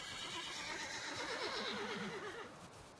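A horse whinnies with a wavering neigh while riding in the Valheim video game. Soft hoof clops sound underneath, all fairly faint against a steady background.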